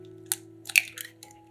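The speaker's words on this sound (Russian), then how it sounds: "В миску разбиваем 3 яйца." Three eggs cracked into a bowl for a pancake pie filling: a few short, crisp shell cracks and wet drops in close succession, nearby, over a faint steady hum.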